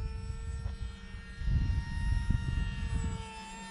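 A small Hobbyzone Aeroscout RC airplane on a 3S battery flies overhead, its electric motor giving a steady high whine with a low propeller rumble that grows louder as it passes closer.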